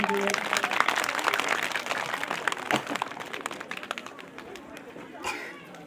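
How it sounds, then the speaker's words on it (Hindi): Students and parents at a school annual exam results ceremony clap for the staff, a fairly loud, dense burst of applause that thins toward the end, with some chatter mixed in. "इनके लिए भी एक ताली बजते हैं सब स्टूडेंट के लिए"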